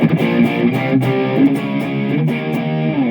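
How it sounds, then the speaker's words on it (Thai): A heavily distorted electric guitar plays a fast, continuous riff through effects pedals, gritty and loud, with no voices. "จะเป็นเสียงแตก"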